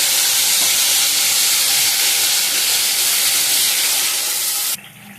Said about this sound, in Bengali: পেস্টের সমস্ত মশলা কড়াই দিয়ে দিলাম।